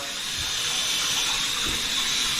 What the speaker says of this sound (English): Pull the diverter,